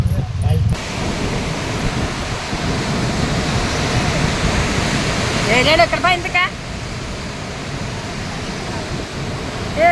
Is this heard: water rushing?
yes